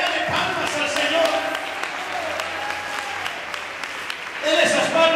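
Congregation at a thanksgiving church service clapping in praise, a steady rhythmic patter of many hands that swells near the end, with a voice heard over it.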